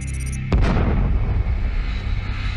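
A single deep, booming explosion bursts suddenly, then rumbles and fades slowly over the next couple of seconds.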